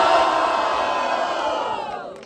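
A loud crowd at a rap battle cheers and shouts together in a sustained roar, gradually tapering off near the end.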